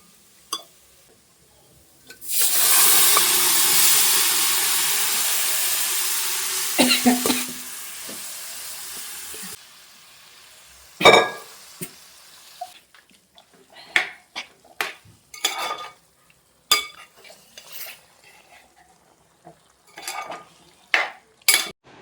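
Beef dropped into a hot frying pan for beef curry with tomato, setting off a loud, steady sizzle for several seconds, then sharp scrapes and clinks of stirring with a utensil against the pan.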